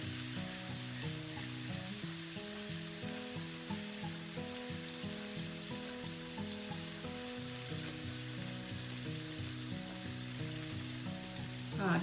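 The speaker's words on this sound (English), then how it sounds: "keep stirring well so that your masala doesn't burn and it fries well" Continuous sizzling of masala frying in a pan for a sweet Anglo-Indian mango pickle, a close and steady crackle with occasional stirring scrapes under background music.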